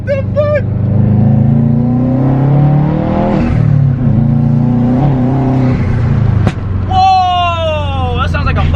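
A rear-wheel-drive Subaru WRX revs hard with its turbo spooling up and whistling, then a sharp pop and a chirping, fluttering blow-off as the throttle closes, loud and close, with people talking over the engine.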